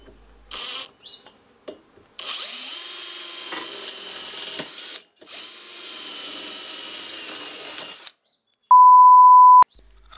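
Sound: drill drilling pilot holes through wooden lathe rails

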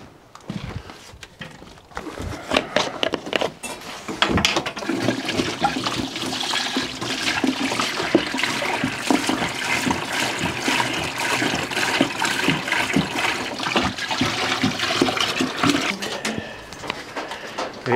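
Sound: water pouring into a bucket for electrolysis

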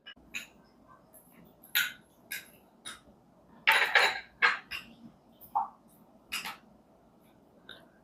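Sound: mixing jaggery into tamarind juice with a spoon

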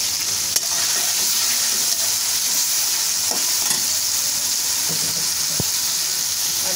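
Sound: chopped green chilies frying with chicken in a pan

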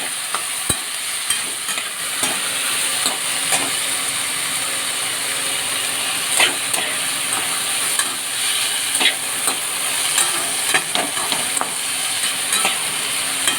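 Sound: frying potato, bitter gourd and ginger in a pan

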